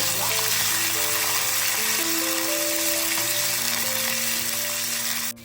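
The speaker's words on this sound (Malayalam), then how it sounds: "ഈ വെളുത്തുള്ളി കൂടി ചേർത്ത് കൊടുക്കും ഇതൊന്ന് വഴക്കും" Sliced garlic for a bilimbi pickle sautéing in hot oil, a loud, continuous sizzle running throughout with faint steady hum beneath, cutting off abruptly at the end.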